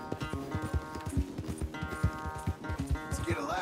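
Horse galloping across an open field in Red Dead Redemption 2, rapid rhythmic hoofbeats close and steady with a game music score and a voice talking over it.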